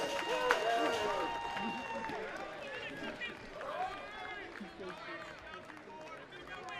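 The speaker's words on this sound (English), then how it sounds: "And you can hear it, this Boilermaker crowd." Crowd at a college baseball game cheers in the stands, a broad steady roar of many voices with scattered shouts and claps, rising as people get to their feet, while an announcer talks over it.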